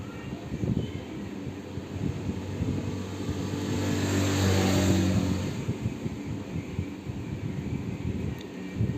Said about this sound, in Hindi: देख सकते हैं मोटर काफ़ी अच्छी चल रही है